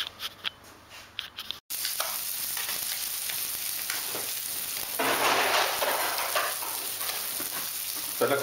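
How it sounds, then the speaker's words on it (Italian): Spiny hake fillets sizzle on a preheated stovetop grill pan, beginning with a short burst of noise and a sharp cut, then turning into steady crackling frying that gets louder midway. "Questi li andremo a mettere sulla nostra bistecchiera che abbiamo già messo sul fornello a scaldare."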